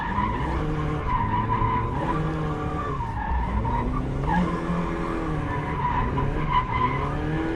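Mazda MX-5 Miata drifting with the handbrake pulled, its tires squealing and skidding over a droning, rising and falling engine note. The squeal is loud and steady and carries on throughout.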